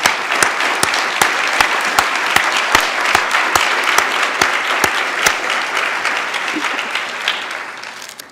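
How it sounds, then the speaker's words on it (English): An awards-ceremony audience claps steadily with dense, even applause and occasional sharper claps standing out, tapering off slightly toward the end with no speech over it. "So if you'll join me in giving them a round of applause wherever they are."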